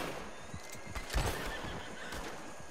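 Horse in a video game giving a short whinny over a background of hooves and game ambience, fairly faint and brief in the middle of the scene.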